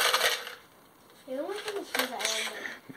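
Pennies in a container rattling as a child's hand reaches in to grab one, a few bright metallic clinks and jingles in short bursts, with voices talking and a sung or drawn-out vocal tone between them.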